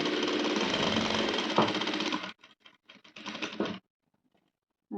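Sewing machine stitching a Chinese-collar blouse: a fast steady mechanical whir for about two seconds, then several short stop-start bursts before falling silent, close and alone.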